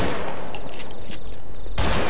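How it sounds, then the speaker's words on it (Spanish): Gunshots in the zombie video game Contagion crack out in a burst of sharp reports, then a louder, heavier blast near the end, with a constant hiss of background noise. "No escuchas ni siquiera mis disparos."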